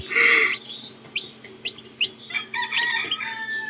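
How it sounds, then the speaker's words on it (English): Baby chicks give high chirps and peeps in short bursts, some louder calls mixed with softer cheeps, over a low background hum. "See, they have that quirking noise."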